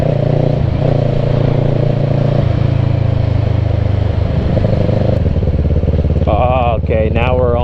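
A Kawasaki motorcycle ridden on a lunchtime road ride, its steady engine drone loud and continuous throughout, with the rider talking over it and a brief rising rev near the end.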